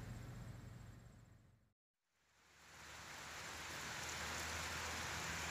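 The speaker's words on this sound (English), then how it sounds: "A little bit of rain going on, huh?" Steady rainfall hisses softly, broken by a brief silent gap before the patter returns and builds to a constant wash.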